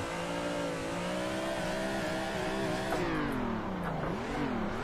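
A BMW M3 in the racing game Assetto Corsa drifting into a spin, its engine droning steadily and then dipping and rising in pitch as the revs change, alone and fairly loud.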